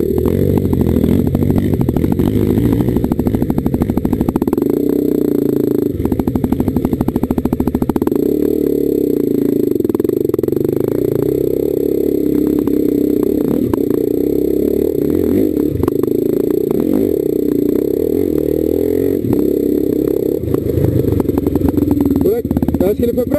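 Trail motorcycle accelerating along a dirt trail near Bragança Paulista, its engine droning loud and close for the whole stretch with rising revs and clattering, while people talk over it.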